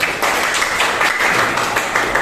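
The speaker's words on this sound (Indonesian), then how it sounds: "kasih tepuk tangan untuk yang pertama" Classroom applause for a group that has just finished presenting, steady dense clapping from many hands filling the room at a fairly loud level with no voices over it.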